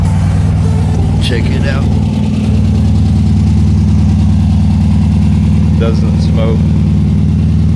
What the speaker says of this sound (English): Motor's real responsive, revs right up.